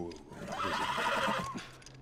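A horse in The Last of Us video game lets out a loud, drawn-out whinny lasting about two seconds, close and fairly full.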